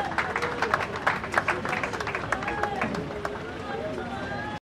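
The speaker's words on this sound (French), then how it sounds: "Acclamons très fort les Seigneurs" A church congregation clapping and cheering in praise, dense rhythmic applause with voices mixed in throughout, fairly close and lively before cutting off abruptly.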